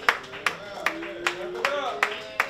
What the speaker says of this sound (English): Round of applause for Lisa, y'all.